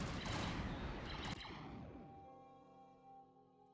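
Blaster fire in a Star Wars Galactic Civil War battle erupts as a dense, loud volley that fades out after about two seconds into a ringing, tonal tail.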